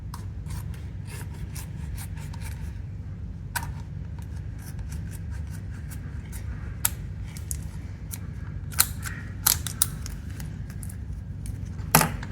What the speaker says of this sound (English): I'm gonna use these scissors to cut this open.